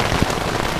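Steady, dense rain patters on a tent along the John Muir Trail, a loud and continuous hiss of drops filling the space with no voices.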